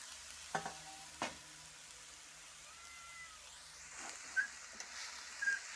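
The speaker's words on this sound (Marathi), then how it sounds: "हा किसलेला गाजर आपण ह्याच्यामध्ये टाकायचा आणि आता हे जरा थोडंसं परतून घ्यायचं" Grated carrot sautéing in ghee, a very faint soft sizzle in a quiet kitchen, broken by a few light utensil taps and stirring clinks.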